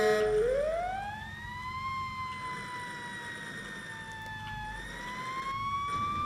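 A fire engine siren sounds in the emergency driving game EmergeNYC, sweeping upward and then holding a long wailing tone, moderately loud over low engine rumble, with no talking.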